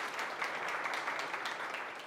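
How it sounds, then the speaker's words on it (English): Brief, steady applause from a conference audience for a professor, many hands clapping together in an even wash with no voices. "big applause for Professor"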